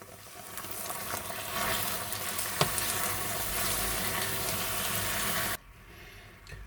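Sugar caramelizing in a pan on the lowest heat is stirred for a Turkish apple cake, giving a steady close sizzling, bubbling hiss with scraping stirs and one sharp knock, cutting off abruptly near the end.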